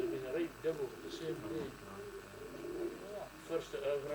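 Racing pigeons coo in a natural loft in Scotland, with soft, repeated throaty burbles from several birds overlapping at close range, mixed with other low murmuring.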